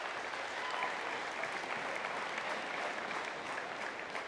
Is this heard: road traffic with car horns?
no